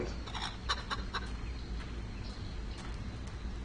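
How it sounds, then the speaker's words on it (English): Chickens cluck at a farm in the video game Fable, with bursts of clucking and squawks in the first seconds over a steady background of ambient game noise. "Chickens."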